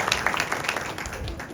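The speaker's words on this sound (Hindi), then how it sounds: "तालियां बजाइए हर्षिता के लिए" Audience clapping for a girl at a spiritual talk, a light, scattered burst of applause from a small crowd, fairly soft and continuous.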